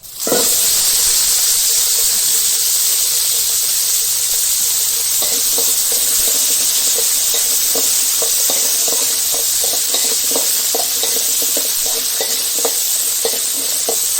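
Chilies fry in hot oil, giving a loud, steady sizzle and hiss throughout. Faint stirring clicks and scrapes come in from the middle onward, and no one speaks.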